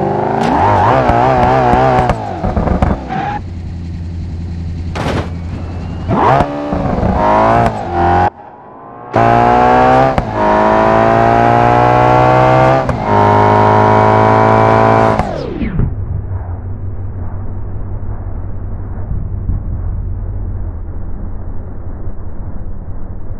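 A car engine in the BeamNG.drive driving game revs in repeated rising and falling bursts with brief cuts, then settles into a steadier, lower, quieter drone for the last several seconds.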